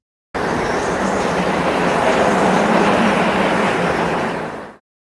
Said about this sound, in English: I added a howling wind sound.